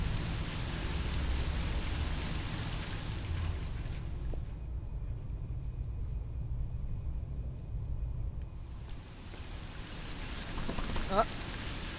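Rain falls in the horror video game Song of Horror near a rusty metal grill, a steady hiss that drops out for several seconds midway and then returns as before.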